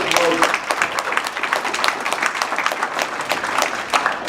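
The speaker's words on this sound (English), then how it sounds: "let's hear it for Rosa." Audience applause at a Lincoln Day political event, steady dense clapping from a crowd lasting throughout.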